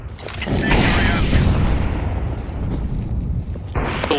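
An incendiary grenade bursts in Counter-Strike 2 with a loud, sustained boom and a roaring burn that rumbles on for several seconds, with game noise and a short burst at the end.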